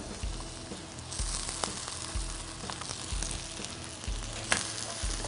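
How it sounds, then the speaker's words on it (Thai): Shrimp and shallots stir-fried together in a hot pan give a steady, close sizzle throughout, broken by repeated scraping stir strokes and occasional utensil clinks, with no talking. "ทีนี้ก็ผัดกุ้งให้สุกกับหอมแดงให้หอมนะครับ"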